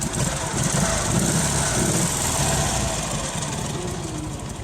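A Dnipro MT-11 (KMZ) motorcycle engine, fully restored, runs loud and close with a rough, throbbing idle that swells a little as the throttle is eased open. It holds steady and continuous with no voices over it.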